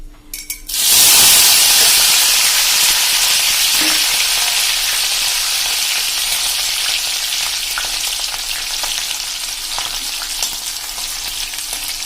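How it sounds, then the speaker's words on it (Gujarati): Chili pieces frying in hot oil for Gujarati chevdo give a loud, steady sizzle and hiss that bursts in after a quiet first second, then stays dense and close for the rest of the time, easing only slightly. "જો અમે 6 થી 7 મરચાના પીસ કરી લીધા છે, એને પણ આપણે તળી લેશું."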